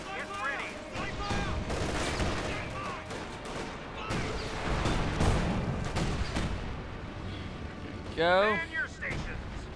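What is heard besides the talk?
gunfire and artillery in Company of Heroes 2 video game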